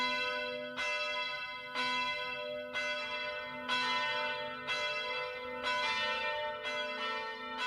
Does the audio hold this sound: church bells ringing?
yes